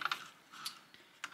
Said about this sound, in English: Just got to lift up, and the keyboard will pop out